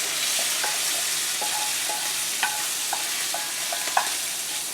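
Thinly sliced small pork pieces sizzle steadily in a pan, with a few light scraping stirs from a utensil punctuating the frying.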